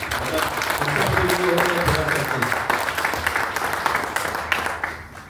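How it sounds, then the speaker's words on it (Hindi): An audience breaks into loud applause, a sustained wash of clapping with faint tonal sounds and voices mixed in beneath it, tapering slightly near the end. "इसके लिए तो जोरदार तालियां होनी ही चाहिए"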